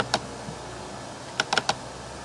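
A few sharp computer mouse clicks in a spreadsheet: a single click early, then a quick cluster of three or four clicks close together, crisp and near with no talking.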